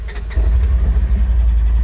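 A 2021 Polaris Ranger XP 1000 Northstar Ultimate side-by-side fires up, its engine catching after a brief crank and settling into a loud, low, throbbing idle close by.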